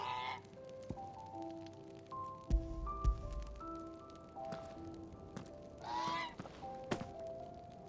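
Birds in Final Fantasy XVI honking, goose-like calls repeating at irregular intervals over a quiet game background with soft thumps.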